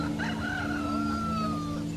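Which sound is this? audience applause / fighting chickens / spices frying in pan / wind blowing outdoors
fighting chickens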